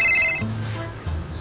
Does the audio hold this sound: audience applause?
no